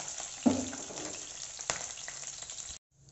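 Curry leaves and green chillies frying in hot oil in a pan for a prawn curry, a steady close sizzle with a louder burst near the start and another crackle midway before it cuts off.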